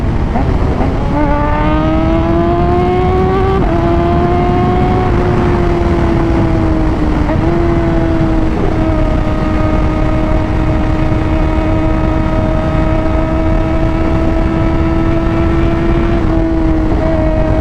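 A Kawasaki Ninja motorcycle engine drones steadily up close, its pitch climbing and then holding level as the bike cruises along.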